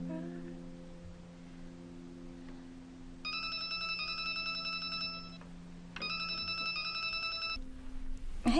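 A telephone ringing indoors in two loud electronic bursts, each lasting about two seconds, with a pause between them, over a low, quiet hum.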